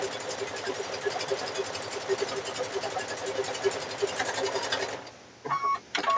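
A sewing machine runs steadily, sewing fabric squares onto rope for a fabric rope bowl. The whir is close and continuous, then stops near the end, followed by brief handling noises.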